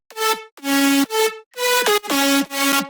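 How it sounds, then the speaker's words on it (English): Future house synth lead with no portamento, a loud buzzy tone playing a short phrase of separate notes that jump in pitch without gliding, with gaps between them and no voices. "Without the slide notes, it sounds like this."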